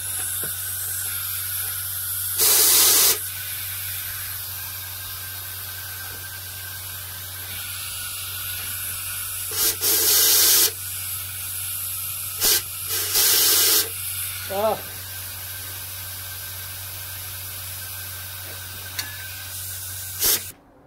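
WaxOyl sprayed through a pipe nozzle under an MGB GT, several loud hissing bursts of a few seconds each, close up, separated by gaps with a steady low motor hum underneath.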